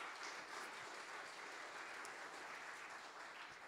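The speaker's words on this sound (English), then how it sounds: "Can you join me virtually and in the room giving an applause to welcome our panellists?" Steady applause from an audience at a panel event, partly in a room and partly virtual, with dense even clapping that holds at a constant level throughout.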